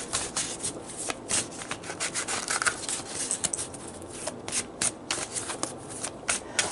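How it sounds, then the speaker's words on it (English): Tarot cards are shuffled close up, a dense run of quick riffling, rubbing card strokes with short bursts and brief pauses, with no talk over it. "So let's pull some fortune cards and see how this relationship unfolds."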